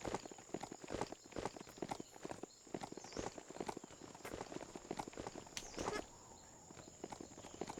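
A goat mount walks along in the video game Biomutant, its hooves clopping in a steady, close rhythm throughout.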